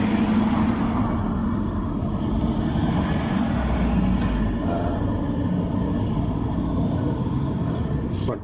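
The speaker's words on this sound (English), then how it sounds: "hopefully you can still hear me with all this traffic" Steady, dense traffic rumble on a street in Malmesbury, UK, heard at close range with a continuous low roar from passing vehicles that holds at an even loudness throughout.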